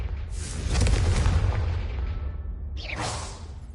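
Fire spell cast in the Hogwarts Legacy video game: a heavy booming burst with a whooshing rush, followed about two seconds later by a second whooshing blast, loud and alone without talk.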